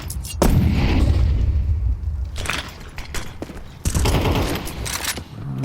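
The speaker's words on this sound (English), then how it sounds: "Nades probably going to do a little bit of damage there" Grenade blasts in a Counter-Strike 2 pro match, heavy booming explosions with rumbling debris in two loud bursts, with faint gunfire and game noise between them.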